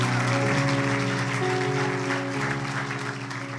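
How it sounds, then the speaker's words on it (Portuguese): A church congregation applauds in a clapping wash under sustained tones of music, continuous and fairly loud for the whole span. "Dê um aplauso a Jesus."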